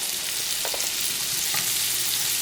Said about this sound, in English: now that the butter has melted, we're gonna toss in some onions